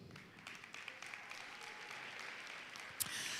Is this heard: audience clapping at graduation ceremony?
yes